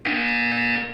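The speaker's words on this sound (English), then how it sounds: "You will hear a buzzer. When you hear the buzzer, look up at the ceiling." A buzzer from the video game Portal 2 sounds as one steady, loud electronic tone lasting about a second before fading at the end, with no voice over it.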